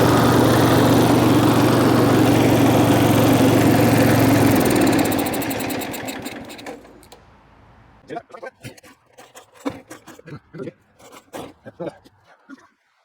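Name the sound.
Lazy Boy lawn mower engine running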